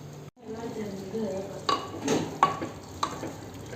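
Chicken with turmeric and chilli powder frying in a clay pot, a low sizzle broken by several scraping stirs and light utensil knocks, close and moderately loud.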